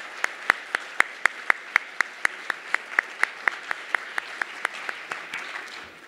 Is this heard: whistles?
no